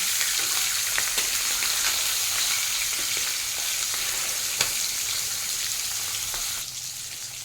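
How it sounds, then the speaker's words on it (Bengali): A steady, loud sizzle of fish frying in hot oil in a pan, continuous crackle throughout without any talking. "মাছটা ভাজা ভাজা হতে হতে"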